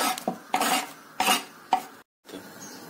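Sliced zucchini is pushed into a frying pan for a pasta dish, making four loud, scraping clatters of food and utensil against the pan, then a brief silence and a quieter shuffle.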